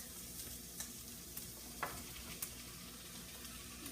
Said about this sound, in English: my vegetables have been sauteing and the onions have become translucent. So now I'm going to add my meat.